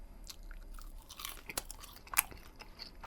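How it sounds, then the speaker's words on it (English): Crunching on crispy sausage skin while eating, heard as close, quiet bites and chewing with irregular crisp crackles over about three seconds. "you can probably hear a bit of crunching going on with the skin"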